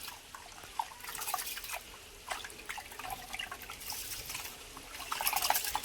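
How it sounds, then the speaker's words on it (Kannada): Rice being washed clean in water from buckets, with intermittent drips, trickles and splashes of liquid close by, no talking. "2 ಬಕೆಟ್ ನೀರು ತೊಗೊಂಡಿನಿ. ಕ್ಲೀನ ತೊಳಿತೀನಿ ಅಕ್ಕಿ."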